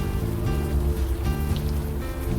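Steady rain falling on a city street in the video game Unavowed, a dense, continuous hiss with a low rumble beneath, loud and unbroken throughout.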